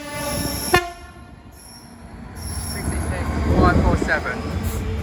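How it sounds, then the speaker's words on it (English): A Freightliner Class 66 freight train passes through East Croydon station. A sharp horn blast comes first, then rumbling and squealing wheels rise as the train nears, with a voice faintly audible among the station noise. "Passing through now is a Freightliner 66 going from Purley D-Day to Wembley receptions."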